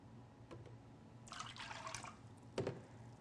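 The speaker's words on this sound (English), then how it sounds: "we're going to add the milk now" Milk poured into a flour sauce for scalloped potatoes, a soft liquid splash and trickle lasting about a second, preceded by faint drips and followed by a brief clatter, quiet and close with no talk.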